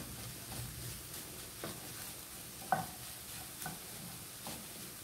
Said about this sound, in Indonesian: Kita aduk lagi sampai harum.